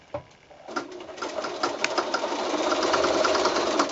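Sewing machine stitching a quilted mini snap bag, a steady rapid mechanical whir that starts after a brief knock and runs continuously at close range, growing slightly louder.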